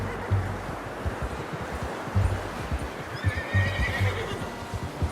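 A horse neighs and whinnies in Red Dead Redemption 2, with hooves clip-clopping throughout and a short spell of ambient birdsong.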